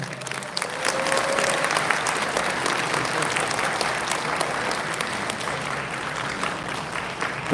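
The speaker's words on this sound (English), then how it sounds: "Let's give them another big round of applause." Sustained applause from a large audience at an international Buddhist women's conference opening ceremony in 2025, dense and even, clapping steadily for several seconds before tapering slightly.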